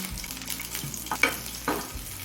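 Garlic and slit green chillies fry gently in oil on a low flame, a soft continuous sizzle with a couple of brief clinks from stirring, close and fairly quiet.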